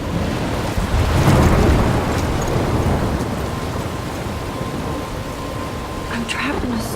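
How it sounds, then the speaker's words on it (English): A storm from the video game Life is Strange roars as a loud, continuous wash of wind and rain, with a deep rumble of thunder swelling early on and a steady windy noise throughout. "I'm trapped in a storm?"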